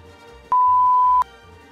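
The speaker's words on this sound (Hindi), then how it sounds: "तो बीप बीप हो जाएगा इसलिए बस ध्यान रखिएगा" A single steady censor beep, loud and pure-toned, runs about seven tenths of a second and covers a line of dialogue in a Punjabi comedy translation of Bollywood lines, with quiet noise before and after.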